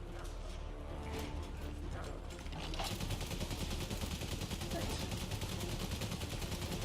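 Enemy gunfire in the Valiant Hearts war game, a dense mechanical rattle of rapid shots that swells louder after a few seconds and keeps going steadily under a busy battlefield din.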